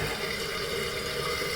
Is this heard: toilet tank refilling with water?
yes